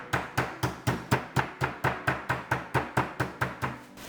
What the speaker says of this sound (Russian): Накрываем, и нам молоточком нужно немного отбить.